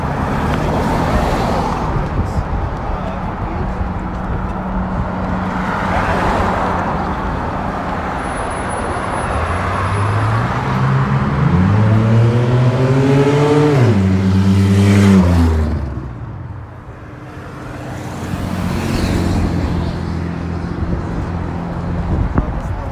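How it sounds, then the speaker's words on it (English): On a city street, a loud car with a failing muffler revs hard as it passes close by, its engine note climbing in rising sweeps before fading out over steady traffic noise. "Sound like a muffler may be needed."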